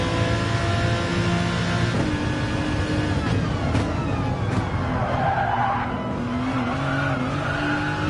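A V12 Aston Martin Vantage races around Interlagos in a racing video game, its engine droning steadily close by while the tyres squeal through the corners, with brief surges of revving and no voices.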